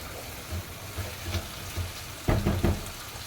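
Meat for kebab sizzles gently in a pot, broken by soft stirring scrapes and a few sharper knocks of a utensil near the end.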